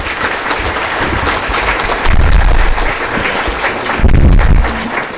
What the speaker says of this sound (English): So I'm going to give Caleb a round of applause.